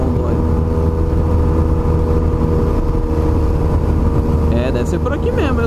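A Yamaha FZ-09 (MT-09) motorcycle engine revs hard while climbing Mulholland canyon road near Malibu, a loud continuous roar with rising pitch toward the end, close to the rider, with a voice heard over it.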